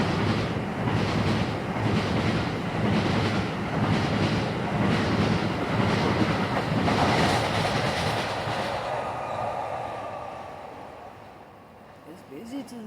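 A busy train rolls past close by with a rumbling roar and rhythmic clickety-clack from the wheels, then fades away near the end, with a voice talking over it.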